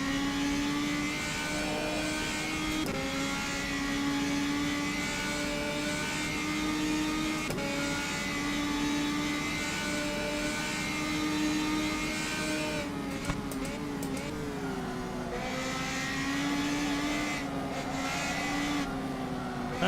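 Radical race car engine in rFactor 2 simulation, a continuous whining drone at high revs that rises and dips with gear changes over twenty seconds, steady and loud with no talking.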